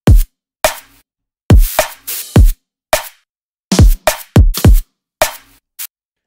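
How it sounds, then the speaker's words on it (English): Electronic kick and snare pattern layered with a burst of white noise on each hit, from a remix production; a dozen or so crisp, loud hits in a syncopated groove with hissy tails and silent gaps. "I also added a layer of white noise on top of it"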